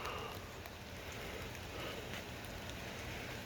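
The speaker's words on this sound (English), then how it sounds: "now it's raining" Steady rain falls outdoors on a hot, muggy day, a constant even hiss of drops on surfaces, fairly faint, with no voices.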